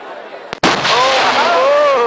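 Fireworks at a Nambur Kavu temple festival: a sharp loud blast around the half-second mark, followed by a dense booming, crackling roar that holds steady to the end, with shrill whistling streaks rising over it.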